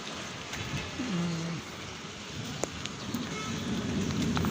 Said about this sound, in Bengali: কালো মেঘে সেই এখন অনেক বৃষ্টি করতেছে